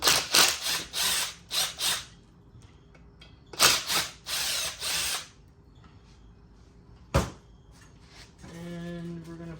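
A ratchet removing fuel rail bolts from a Mk7 GTI engine gives several close, loud bursts of rapid clicking, then a single sharp knock and a soft hum near the end.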